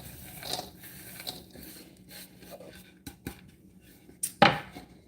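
A knife coarsely chops walnuts on a cutting board, giving a handful of irregular, sharp taps and crunches separated by quiet gaps, with a louder, harder knock near the end.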